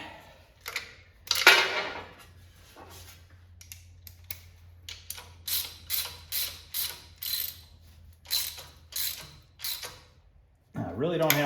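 A ratchet wrench cranks a steering nut down onto a washer on a 1959 Chevrolet Impala, flattening it, giving bursts of crisp metallic clicking in repeated strokes with short pauses between them, close up, with a low hum underneath.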